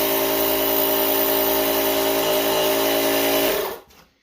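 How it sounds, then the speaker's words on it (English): A car jump-starter booster pack's small built-in digital air compressor runs with a close, steady mechanical whine and buzz, then cuts off abruptly near the end, leaving a brief faint tail. "it has a digitally controlled, programmable air compressor feature in it"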